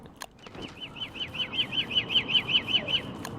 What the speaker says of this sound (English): Goddamn birds!